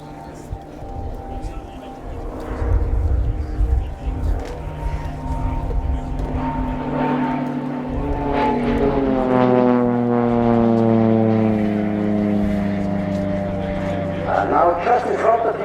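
A Swiss Air Force PC-7 propeller trainer makes a solo flyby at an air display, its engine tone rising and then sliding downward in pitch as it passes, steady and loud throughout, with a public-address commentator talking over it.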